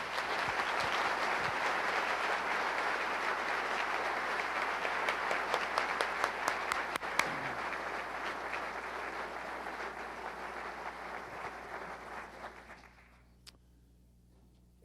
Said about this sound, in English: A round of applause for the Lockheed team.